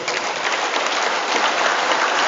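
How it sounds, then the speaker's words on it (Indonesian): Parents and guests at an elementary school Quran memorization graduation clap together in a loud, dense, continuous burst of applause that fills the room. "Mari kita tepuk tangan sama-sama Bapak Ibu."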